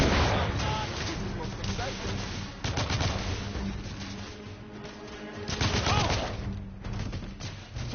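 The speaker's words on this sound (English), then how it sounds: "I'm taking suppressing fire." Suppressing gunfire in a PS4 shooter game: sustained bursts of automatic fire rattle on throughout, with louder volleys near the start and middle, and game voices mixed underneath.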